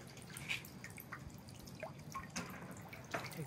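Water running from the mouth of a turtle statue at the purification basin of Kameido Tenjin Shrine in Tokyo, a steady soft trickle with scattered drips and splashes, heard alone without voices.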